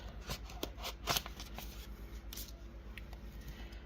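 Savings challenge binders are pulled out of envelopes with close, crisp rustling and papery scuffs, including a few sharper flicks partway through, with no voice present.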